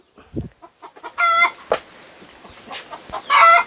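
Hens clucking close by on a Thai rural homestead, a series of short clucks and rising cackles broken by brief knocks, loud and clear with no talking.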